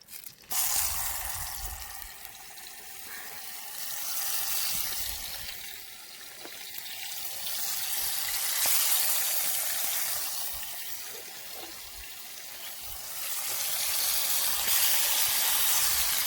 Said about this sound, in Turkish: Yağın içine domatesleri koyacağım.